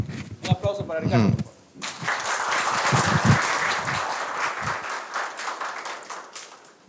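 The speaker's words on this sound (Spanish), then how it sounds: "Un aplauso para Ricardo" Audience applause for a speaker at an astronomy talk, a dense, steady round of clapping from a crowd lasting several seconds, preceded by someone speaking and with brief voices underneath.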